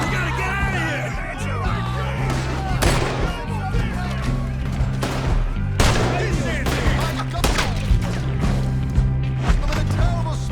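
Gunfire rings out in Red Dead Redemption 2 during a chaotic shootout: sharp repeated shots and volleys crack over a rumbling score, with voices calling out between bursts.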